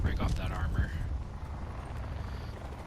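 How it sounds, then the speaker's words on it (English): A low, rumbling video game helicopter drone with throbbing rotor beats under a brief murmur of talk at the start. "Helicopter coming over."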